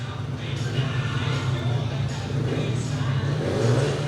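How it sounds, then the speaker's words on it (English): Several speedway motorcycle engines rev together at the starting tapes of a Poole Pirates race in a loud, continuous roar, with a voice talking over the din. "So the engine noise starts to rise."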